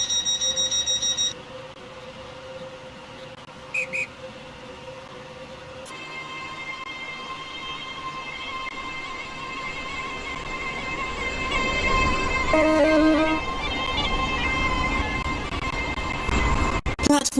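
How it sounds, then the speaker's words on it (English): A train in the Roblox game Leighton City draws into a station platform, a steady rolling rumble building over about seventeen seconds beneath sustained tonal hums and a brief chime. "The train now approaching platform."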